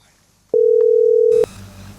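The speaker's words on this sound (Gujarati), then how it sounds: "સીઆઈડી ને ફોન કરવો પડશે." A single steady telephone tone, loud and near, sounds for about a second while someone places a call to the CID in a comedy skit, followed by faint background noise.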